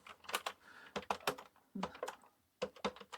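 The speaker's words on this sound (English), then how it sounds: "I think this would be a reasonably decent keyboard to actually type on." Keys clacking on a Timex 2068 home computer's keyboard, heard up close in short irregular bursts of several firm presses with brief pauses between them.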